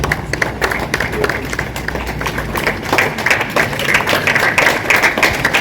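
An audience at a school reading quiz launch at Ave Maria School claps, a crisp crackle of many hands that swells in the second half and stays fairly close and moderate in level.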